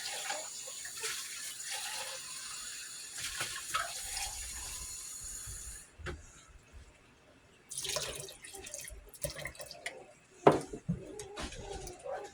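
Water runs from a tap into a pot of deer chili in a home kitchen, a steady splashing pour that stops, followed by scattered drips, clinks and handling noises.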